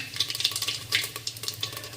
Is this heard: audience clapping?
no